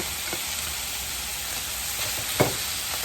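Onions and steak frying together in a pan for cheesesteak subs over medium heat, a steady broadband sizzle with a few brief stirring scrapes, no talking.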